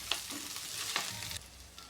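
Chopped fenugreek leaves tipped into a hot pan on medium flame and stirred, a soft sizzle with scraping spoon strokes and a couple of sharp clinks against the pan, close and alone.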